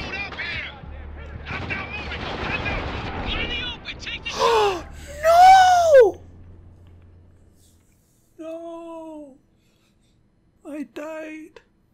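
Rapid gunfire and explosive bursts in the shooter game Spec Ops: The Line, dense and loud for several seconds, then a voice shouts and short sparse sounds follow amid silence.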